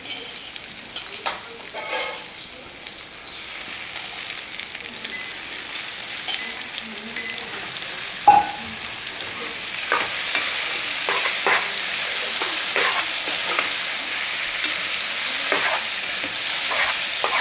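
Tomatoes and brinjal fry in a pan for an eggplant curry, giving a continuous sizzle with repeated scraping and stirring strokes, close and fairly loud throughout.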